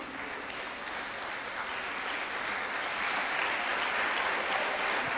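A school anniversary audience applauds its teaching and non-teaching staff with dense, sustained clapping that holds steady and swells slightly toward the end, with no voices heard.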